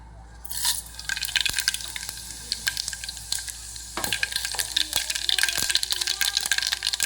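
Mustard seeds dropped into hot oil in a pan for a brinjal curry, crackling and popping in a dense, steady sizzle that continues with scattered sharp spits throughout.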